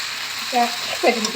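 Chicken frying in a pan with bean seeds sizzles with a soft, steady crackle, joined by two brief louder scraping stirs.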